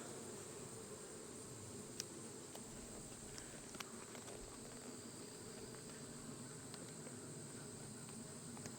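A steady, faint hum of honey bees buzzing around capped hive frames runs throughout, with occasional light clicks and taps of handling and no talk.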